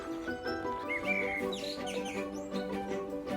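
Birds chirping and twittering in quick, bright bursts, several calls overlapping at moderate distance with no voices, in Britain.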